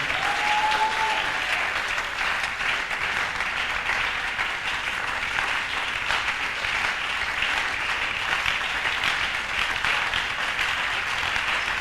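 Sustained applause and cheering from a congregation at an evening prayer and doctrine school service, a dense, steady wash of clapping filling the room without pause.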